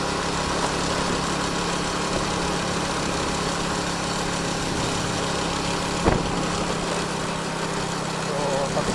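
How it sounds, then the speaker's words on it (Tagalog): A motorcycle engine runs steadily on an uneven, potholed road to Oslob, Cebu, with a continuous rumbling drone and road noise, with a brief bump near the end. "So pagsagaan nyo na ang ingay ng aking motor"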